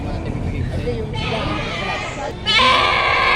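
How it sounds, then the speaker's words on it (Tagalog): A goat bleats loudly and steadily near the end, after a stretch of mixed background noise and people talking nearby at a livestock market in Padre Garcia. "Parang may kambing."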